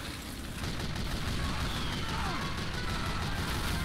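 Machina sniper rifle shot in the Team Fortress 2 video game, a loud sharp crack that sets off a sustained roar of noisy in-game battle, dense and continuous to the end.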